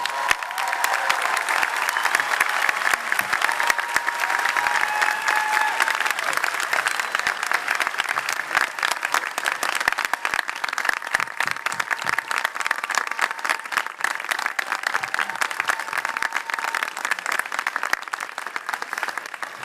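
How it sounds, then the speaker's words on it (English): Audience applause at an honorary doctorate ceremony, dense sustained clapping from a large crowd that stays loud and even throughout. "Please give Dr. Nobles another round of applause."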